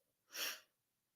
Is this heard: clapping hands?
no